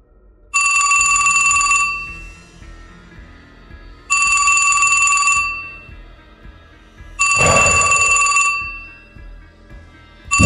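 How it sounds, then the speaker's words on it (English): A telephone bell rings loud and close in three long electronic bursts separated by short pauses, with a fourth ring just starting at the end. "Will somebody please answer the damn phone?"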